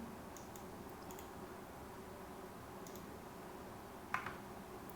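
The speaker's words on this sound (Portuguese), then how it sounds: "É só digitar esse comando aqui." Soft keystrokes on a computer keyboard as a command is entered, a few faint clicks over a steady background hiss with one sharper tap near the end.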